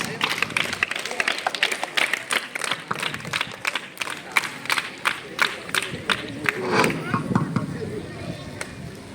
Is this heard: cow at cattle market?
no